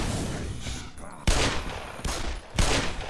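Gunfire from a weapon in Black Mesa, with three sharp, loud blasts roughly every 0.7 seconds, each followed by a short ringing tail over a steady game background.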